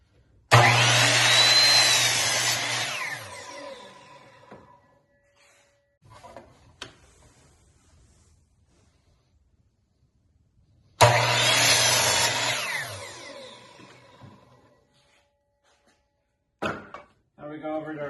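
A power saw cuts wood boards for a raised garden bed in two separate loud bursts of about three seconds each, each followed by the motor winding down, with quieter clunks of handling between the cuts.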